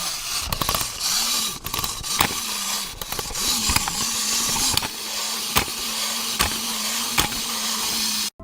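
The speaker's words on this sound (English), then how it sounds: "This is the audio cue just before Lefty is about to attack the player." Lefty's pre-attack audio cue in Five Nights at Freddy's 6, a harsh grinding mechanical drone with rising and falling whirring sweeps, punctuated by sharp metallic clanks at irregular intervals.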